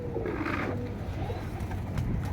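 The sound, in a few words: pigeons released after 10-15 days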